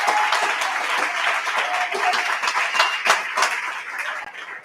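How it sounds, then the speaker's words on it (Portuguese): A church congregation claps together during a Sunday worship service, a dense, lively burst of many hands that swells slightly and then tapers off toward the end. "Aplauda, aplauda."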